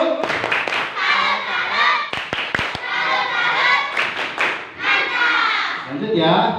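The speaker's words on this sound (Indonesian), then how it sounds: "Beri tepuk salut buat Fani." Students in a classroom perform a patterned salute clap, sharp rhythmic hand claps and taps mixed with children's voices and lively chatter throughout.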